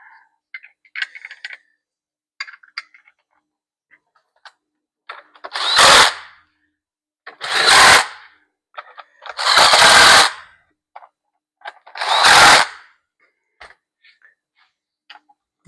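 An impact driver drives screws into a Sunpumps pool pump motor in four separate loud bursts of about a second each, with faint clicks and taps between them.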